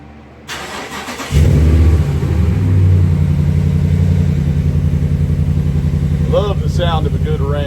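A 2017 Ram 1500 pickup cranks briefly, fires up loudly and settles into a steady, close idle, with a faint voice near the end.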